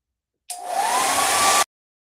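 A small handheld hair dryer switches on abruptly, blows a steady loud rushing whoosh with a faint rising whine for about a second, then cuts off into silence while drying paint on a craft piece.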